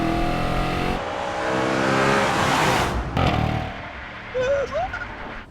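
An Audi RS5 engine revving while driving, loud rising and falling engine roar with a sharp drop near the middle, then a rough burst and a faint squeal-like whine toward the end.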